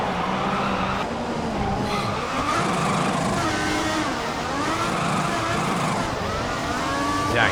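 A Formula One race car in the video game F1 2014 roars continuously at high revs, its tires skidding and squealing as the engine pitch rises and falls through corners, loud and close throughout.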